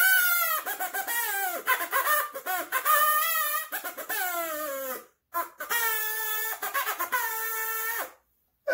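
A homemade harmonica made from tongue depressors is blown hard, giving wavering, buzzy reed-like squeals in rising and falling bursts, with a couple of short breaths between.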